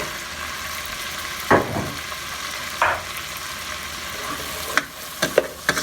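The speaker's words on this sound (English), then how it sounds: "Once your butter has melted, dump in your onions, shallot," Onions, shallot and mushrooms sizzle in melted butter in a pan, a steady frying hiss broken by a few louder stirring scrapes and clatters, with no talking.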